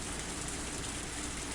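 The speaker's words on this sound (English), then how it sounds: "The rain was still pretty intense." Steady heavy rain in a visual novel scene, a dense, even hiss of downpour continuing throughout with no break or voices.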